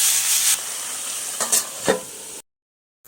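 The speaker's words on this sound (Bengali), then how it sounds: "মাছের মাথাগুলো দেওয়া হয়ে গেছে, আবারও আমি একটু নাড়াচাড়া করে দেবো" Fish heads and cabbage stirred in a frying pan give a sizzling hiss with a few scraping strokes of a spoon. The sound then cuts to near silence, and a faint sound returns at the very end.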